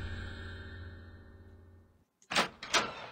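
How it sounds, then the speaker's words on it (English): A door opens in the horror video game Scar of the Doll. A low ambient drone fades to near silence, then two sharp, loud bursts of the door sound up close. "Suddenly the door opens."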